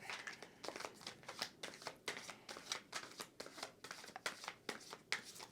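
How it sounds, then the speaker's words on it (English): Tarot cards are shuffled close up in quick, quiet rhythmic riffles and bursts that repeat steadily throughout. "I love these ones because I can actually shuffle them"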